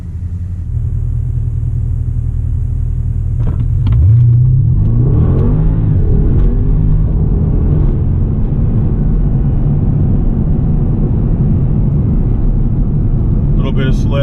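A Porsche Panamera Turbo S with a Racechip tune launches from a standstill in sport mode with automatic transmission, its engine rumbling at idle, then surging into a loud, rising roar that settles into a sustained drone as it accelerates, with a voice speaking.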